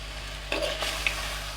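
Crab and crab legs fry in a pan and get stirred, with a soft steady sizzle and a couple of close scraping strokes.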